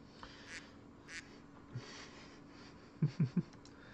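Video game duck from Old School RuneScape gives a few soft quacks, then three quick, louder quacks in a row over faint background noise.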